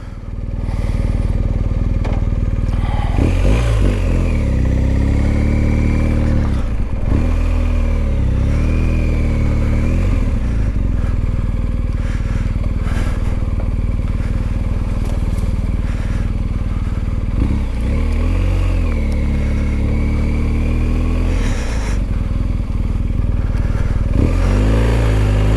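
Dirt motorcycle ridden on trails in Enduro Pro riding mode, its engine running steadily throughout at close range with repeated revs and throttle swells, no talk over it.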